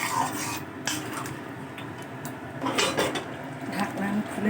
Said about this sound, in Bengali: ঢাকনা আমি খুলে নিলাম। আবার ঢেকে দিলাম।